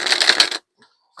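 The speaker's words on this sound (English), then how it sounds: "This deck was also shuffled." A deck of cards riffles in a quick, crisp burst of fluttering snaps for about half a second, then stops, followed by faint clicks.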